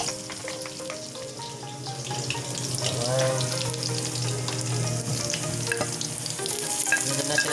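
Garlic sizzling and frying in hot oil in a home kitchen while cooking soup bihon noodles, a steady crackling hiss with stirring clatter and some tonal background sounds, no talking.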